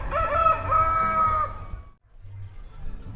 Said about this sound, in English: And as you can probably hear, there's a lot of roosters.